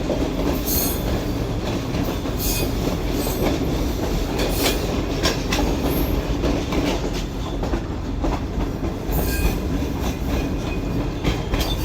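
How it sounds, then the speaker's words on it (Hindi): A train rolls steadily over the Kirthar mountain range in Pakistan, with continuous loud rumble of railcars, rhythmic wheel clatter and occasional brief metallic squeals, no talking. "हमारी ट्रेन इस वक्त दौड़ रही है कीथर माउंटेन रेंज के ऊपर"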